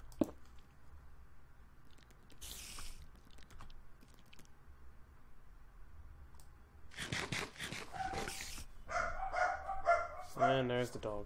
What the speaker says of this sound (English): And there's the dogs barking.